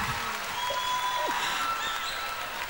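Studio audience applause for a guest on a Malaysian television singing-competition show, a steady mid-level patter of clapping with a faint sustained musical tone running underneath.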